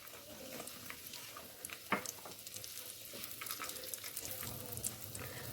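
Nuts and chopped dates fry in ghee for caramel sheer khurma, a soft continuous sizzle with faint stirring clicks and scrapes, quiet and close, with no voices.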